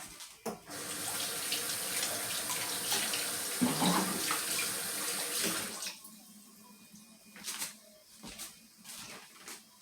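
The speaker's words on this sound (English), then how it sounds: "Here's my peaches here. So I'm gonna rinse it off." Water runs from a kitchen tap over fresh peaches being rinsed, a steady close splashing stream that stops about two-thirds through, followed by a few light clicks and handling sounds.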